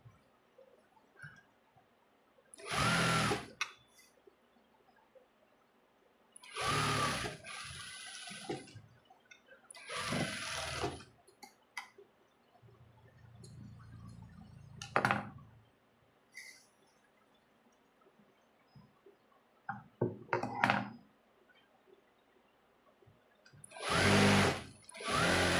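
A sewing machine stitching a lined blouse runs in several separate short bursts. Quiet gaps of a few seconds fall between them, with the whirring fairly close and clear.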